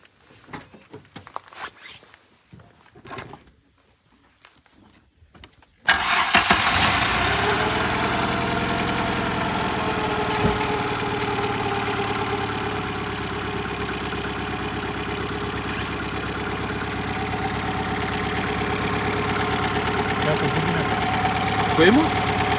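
Old car engine cranks over after a few quiet clicks and catches, then settles into a steady, even idle that runs on loud and close to the end.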